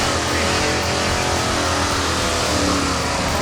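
A drag racing truck roars down the track, its engine revving loud and continuous with a dense, gritty wash of noise and no break or talking throughout.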